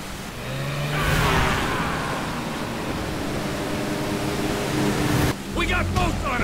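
Motorboat engines roar and rumble as boats speed down river rapids in the video game GTA 5. The engine noise is steady and fairly loud, with a sharp change near the end and voices speaking over it.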